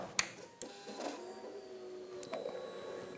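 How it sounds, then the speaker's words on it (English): Electric fuel pump on a Suzuki GSX-R1000 motorcycle priming after reconnection, a steady faint whine with a few sharp clicks near the start and a sustained mechanical hum running throughout. "Now, let's see if we hear a prime up now."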